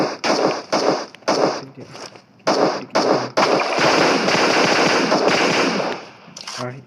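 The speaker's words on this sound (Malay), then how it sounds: "Nampak ni ada orang, kalian hanya siap senjata, orang tu lalu kita tembak." Rapid bursts of automatic gunfire in the PUBG Mobile battle game, several loud close volleys in quick succession followed by a sustained stream of shots, ending with a short final burst.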